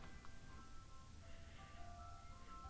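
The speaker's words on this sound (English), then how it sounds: "The ice cream truck is outside of my apartment complex." A faint, tinkling melody drifts from an ice cream truck parked outside an apartment complex, heard distantly over a low background hum with no nearby talk.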